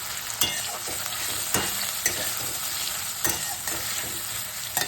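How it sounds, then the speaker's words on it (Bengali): Fried potatoes being stirred with salt and turmeric in a pan after a tempering of nigella seeds, green chilli and onion, a steady sizzle broken by several sharp scrapes and clicks of the spoon, with no talking. "নুন হলুদ দিয়ে আর একটু নেড়ে দিচ্ছি"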